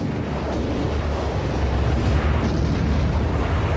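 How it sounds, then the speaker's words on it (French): Continuous heavy rumbling roar of naval bombardment explosions pounding the D-Day invasion beaches in June 1944, a dense, loud, unbroken barrage with deep low-end weight and no distinct separate blasts. "Le fracas des explosions était effrayant."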